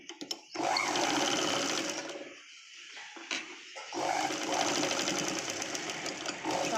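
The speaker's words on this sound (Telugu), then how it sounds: "ఆది డ్రెస్ ఏ విధంగా స్టిచ్ చేసుకోవాలన్నది చూపిస్తున్నాను" A sewing machine stitches a Punjabi dress top in loud, close bursts of rapid mechanical whirring, stopping briefly partway through before running again.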